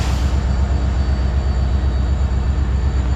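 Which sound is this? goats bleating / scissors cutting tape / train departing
train departing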